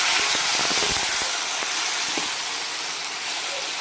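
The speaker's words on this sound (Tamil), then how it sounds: "இப்போ நம்ம வெட்டி வச்சு இந்த தக்காளியை போட்டுக்கிடுவோம்." Loud, steady sizzle of chopped tomatoes dropped into hot oil in a pan, with brief crackles and clatter at first settling into a continuous hiss.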